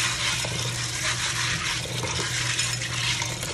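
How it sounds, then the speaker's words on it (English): Gungo pigeon peas being rinsed under running water for Jamaican rice and peas, a steady continuous splashing rush of tap water that holds even throughout, with no talking. "I'm just gonna wash the Gungo peas off"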